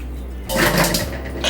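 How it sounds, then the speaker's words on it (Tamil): Water poured over dried kachai fish in a pan for a first rinse at home, a broad splashing wash starting midway and running steadily to the end, close and fairly loud. "ஃபஸ்ட்டு கொஞ்சம் போல் தண்ணி ஊற்றி சும்மா கழுவிக்கணும்."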